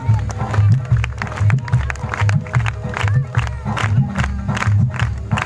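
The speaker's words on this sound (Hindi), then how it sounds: "ताली बजाओ ना।" An audience at a devotional talk claps loudly in a steady rhythm, with crowd voices and chanting mixed in throughout.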